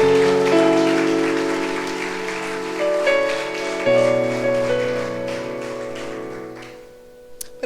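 A church congregation applauds with a dense, steady patter of clapping that runs under sustained keyboard chords and slowly thins out toward the end.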